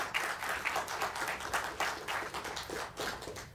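Audience applause for the MAVEN Mars mission team at a NASA prelaunch news briefing, a fairly faint, even patter of many hands clapping at moderate distance, steady throughout.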